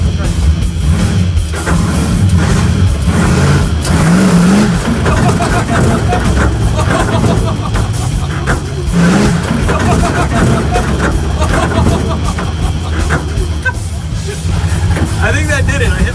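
Rough, loud engine revving from a wheelstanding dump truck on dirt, rising and falling in bursts under excited shouting and talk from the cab.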